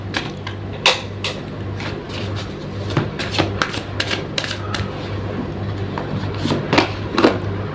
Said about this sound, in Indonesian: Langsung saja saya shuffle kartunya